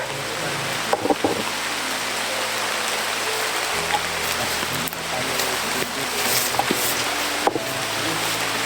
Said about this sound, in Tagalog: Yung area dito brad ay maulan talaga.